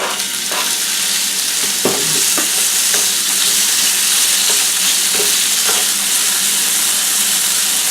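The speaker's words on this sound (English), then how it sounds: "Add a little oil to a hot pan. Add some chopped beef." Chopped, lightly salted beef frying in a little oil in a hot pan for a stir fry, a loud steady sizzle with occasional stirring scrapes and pops, close up and without talk.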